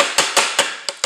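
A food processor lid being opened over a chickpea mixture gives five sharp, close plastic clacks and clicks in quick succession, each with a short ring, and no talking.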